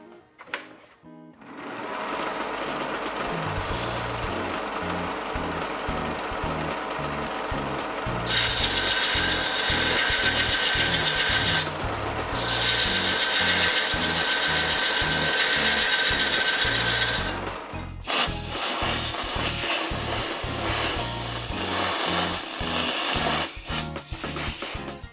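Straight cutter hollowing the inside of a black acacia stump vessel on a lathe, a rapid rhythmic chattering scrape with bursts of higher, brighter cutting noise, loud and close, no talk.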